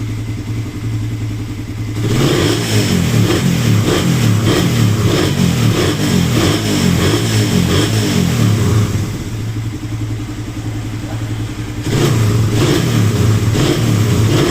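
A Suzuki Raider 150 motorcycle engine after a tune-up idles, then revs loudly and steadily for several seconds, settles back to idle, and revs up again near the end, close and without talk.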